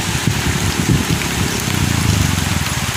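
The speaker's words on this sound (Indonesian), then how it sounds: "Hujan, Din." Heavy rain falls steadily, a loud continuous wash of drops pattering on surfaces with a low rumbling undertone, no voices heard.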